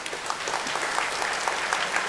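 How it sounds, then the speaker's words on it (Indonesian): Churchgoers at a priest's first Mass clap in a steady, fairly dense round of applause inside a church, with no speech. "Ya, tepuk tangan."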